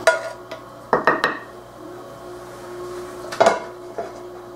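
A dish set down in a kitchen sink while cooking faux mac and cheese: a quick run of clattering clinks, then a second sharper clank a few seconds later, over a low steady room hum.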